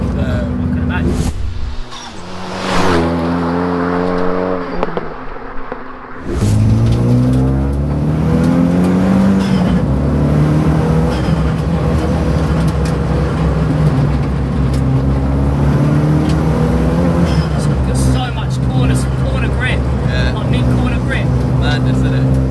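A Renault Megane RS track car accelerates hard around a circuit lap, its engine note loud and close, climbing in pitch through each gear with brief drops at the shifts, sustained throughout.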